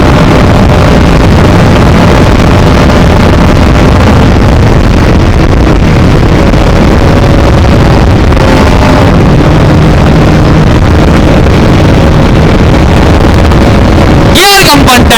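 Bajaj Pulsar NS 200 motorcycle ridden at top speed, with steady roaring engine and heavy wind buffeting on the microphone throughout, ending in a sharp brief rising engine note.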